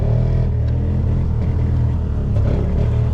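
A Yamaha G1 two-stroke golf cart engine runs loud and close, a dense steady rumbling drone with slight shifts in pitch as it is revved.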